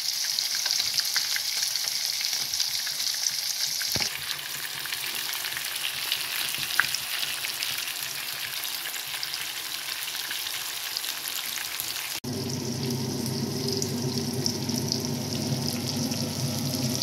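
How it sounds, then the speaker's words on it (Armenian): Meat cutlets fry in a pan with a continuous close crackling sizzle, a faint spatter and a brief break partway through before the frying carries on. "Երկու կողմից կոտլետները պետք է տապակենք"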